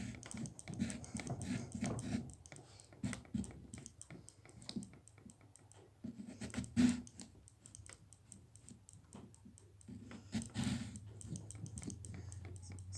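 A knife carves a pumpkin into a Freddy Fazbear jack-o'-lantern face, producing close, irregular clicks and scraping taps that run on and off throughout.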